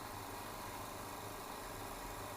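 A petrol generator's steady engine drone hums in the background, constant and fairly faint, with no pauses or changes in pitch.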